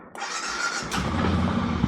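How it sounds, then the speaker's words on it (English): A motorcycle engine cold-starts in snowy Minnesota winter weather, cranking briefly then catching and settling into a loud, steady close-up idle. "Cold weather start. Just see how she fires up."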